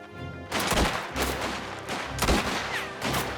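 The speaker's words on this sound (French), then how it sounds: "une petite fusillade." Gunfire in the video game Mafia: The Old Country, a dense burst of shots crackling in rapid, overlapping volleys throughout, loud and continuous with several sharper bangs standing out.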